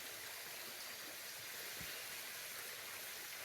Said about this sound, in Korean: 물소리가 들리고